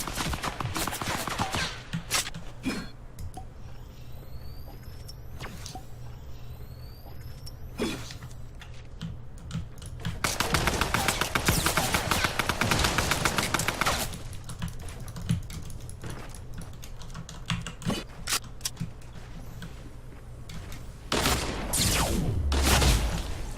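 Video-game gunfire from Fortnite, played on GeForce Now, comes in sharp bursts, with a dense rattling volley near the middle, mixed with clicky keyboard and mouse tapping and no talking.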